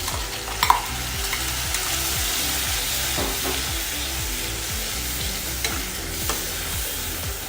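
Tomato gravy hits hot tempering for dal khichdi, a loud continuous sizzle and fry hiss with steady stirring scrapes and a few sharp spatters near the start.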